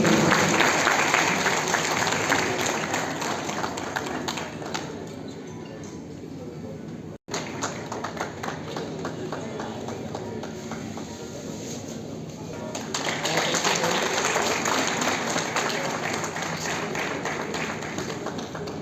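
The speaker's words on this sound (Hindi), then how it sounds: "जोरदार तालियों से परिवार का अभिनंदन करें।" A crowd claps steadily and loudly, sustained applause with a brief dip midway before swelling again.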